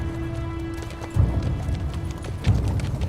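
Horses' hooves clip-clopping at a quick galloping pace over a dense rumbling background, steady and fairly loud throughout.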